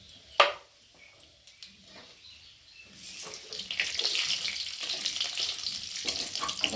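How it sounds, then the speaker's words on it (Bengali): Whole cumin seeds and bay leaves hitting hot oil in a kadai, starting with a few sharp clicks and then rising into a steady hiss of frying spices, moderately loud and without speech. "কড়াতে তেল দিয়েছি তেলটা গরম হয়ে গেছে এখন আমি ফোড়নে দিয়ে দেবো গোটা জিরে আর দিয়ে দেবো তেজপাতা"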